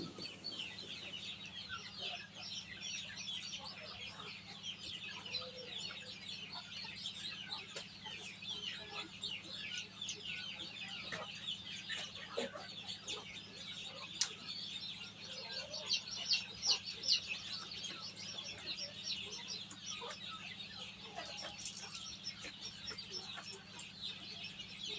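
Newly hatched chicks peep steadily from a homemade 110-egg incubator, a dense, continuous chorus of high chirps over a constant low motor hum, with no talk.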